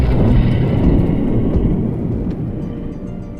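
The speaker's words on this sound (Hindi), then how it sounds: "थोड़ी देर बाद उन्होंने एक बार फिर वही गड़गड़ाहट की आवाज सुनी।" Deep rolling thunder rumbles loud and close as a sound effect in a children's story, with a hiss like rain over it, slowly fading.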